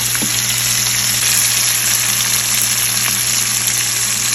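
Onions, green chillies, cashews and red chillies sizzle steadily in a pan for a restaurant-style butter paneer masala, a loud, continuous frying hiss close up with no voices.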